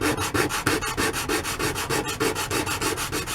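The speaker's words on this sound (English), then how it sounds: "Sand that down, flip it over, sand on the other end." A small wooden miniature bench piece is rubbed back and forth on flat sandpaper, giving steady rhythmic rasping strokes, about eight per second, close and clear with no talking.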